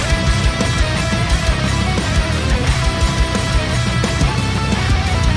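A dense, finished metal mix after mixbus processing, with heavy low end and bright, compressed full-band energy held loud and steady throughout, no voices.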